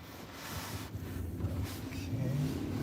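A car engine accelerates and revs at moderate volume while driving up to park, rising gradually from inside the cabin.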